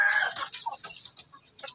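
A hen in a nesting box gives a brief series of close clucks, a few sharp calls in quick succession with no voices over them.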